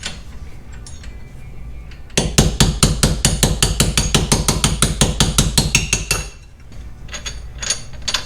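Rapid, evenly spaced hammer taps drive a rear wheel stud into the hub of a C5 Corvette, a loud metallic run of about twenty strikes that starts abruptly and stops, with quieter workshop clatter before and after.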